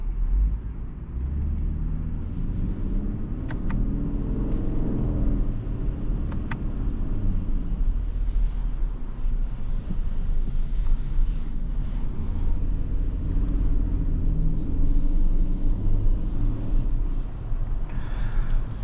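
Steady engine and road noise inside a 2025 Lexus LX 700h F Sport Handling hybrid SUV while driving, a continuous low rumble with tyre roar that holds even throughout, heard close from the cabin with no talking.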